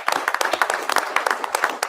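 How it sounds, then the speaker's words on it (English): Short, close burst of clapping hands as a commission meeting applauds young visitors, uneven claps over under two seconds. "So can we give them all a round of applause,"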